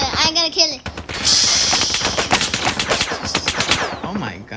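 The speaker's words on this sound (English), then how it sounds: "you guys are shooting like crazy" Rapid gunfire in a shooting video game, dense automatic bursts and shots firing almost continuously and loudly, mixed with voices talking excitedly over the action.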